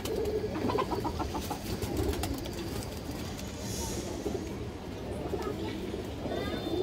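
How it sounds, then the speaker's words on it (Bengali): Pigeons in a pen coo in low, repeated warbles under someone talking, with rustling and background noise throughout. "এই যে দেখেন দর্শক দুইটা কবুতর কিন্তু ফুল ডাউন শেপ আছে"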